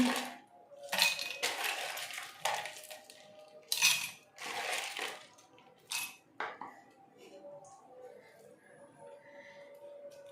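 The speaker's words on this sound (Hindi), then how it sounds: "अब मैं आइस डालूंगी।" Ice cubes dropped into a glass or dish for a shakar kola summer drink, heard as several sharp clinks and rattling knocks in uneven bursts, close by, with some faint background noise.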